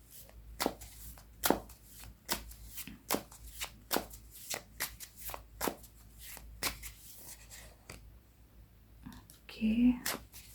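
Tarot cards are shuffled close to the microphone in a series of sharp riffles and soft slaps at uneven intervals, and a quiet voice briefly murmurs toward the end.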